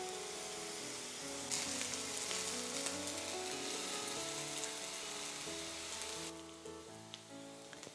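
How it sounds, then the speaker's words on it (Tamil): Chopped onions and asafoetida frying in oil in a pan for sambar, a continuous soft crackling sizzle with occasional light stirring, close but fairly quiet, with no talking. "இது ஒரு கோல்டன் ப்ரௌன் ஆகிற வரைக்கும் வதக்கிக்கோங்க."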